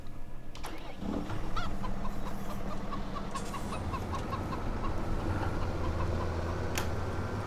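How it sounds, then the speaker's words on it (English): Chickens cluck and squawk repeatedly in Farming Simulator 17 over a steady engine rumble, with the birds close and fairly loud throughout. "So many chickens that you could potentially run over."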